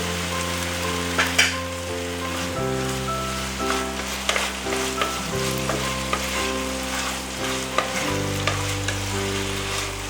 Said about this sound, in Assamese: এনেকৈ আমি 1 মিনিট বা 2 মিনিট সময় আঞ্জাটো অলপমান ফ্ৰাই কৰি দিম